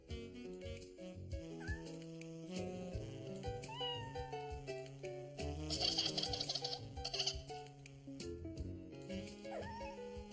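A cartoon kitten meows in short, high mews over a busy, loud music score, with a bright burst of chimes partway through and no talking.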